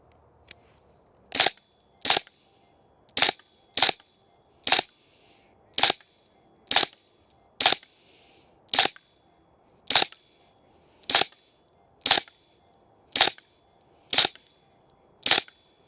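An airsoft gun fires a steady series of sharp, single shots, about sixteen evenly spaced cracks, close and crisp against a quiet background.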